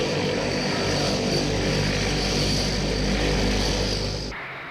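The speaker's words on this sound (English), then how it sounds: "This Franco-German plane, the Transall troop carrier, has Rolls-Royce engines built under license on the continent." A Transall troop carrier plane with Rolls-Royce propeller engines drones loudly and steadily, a dense roaring hum held for several seconds before cutting off abruptly.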